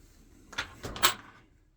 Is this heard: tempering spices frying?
no